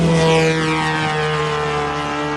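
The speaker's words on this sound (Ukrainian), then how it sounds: "Тихо! Це безпілотник. Це безпілотник." An attack drone flies overhead, a loud steady buzzing propeller drone whose pitch slowly shifts as it passes close by, with no talking.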